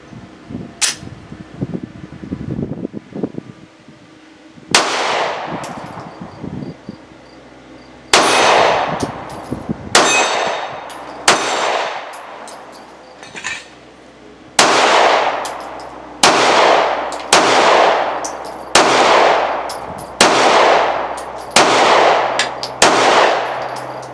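Ruger Security 9 pistol firing brass rounds, a loud shot, then a rapid string of about a dozen sharp cracks, each ringing out with a decaying tail, with clinks and handling noise at the start.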